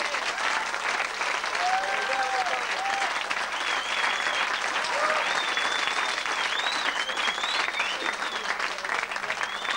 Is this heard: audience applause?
yes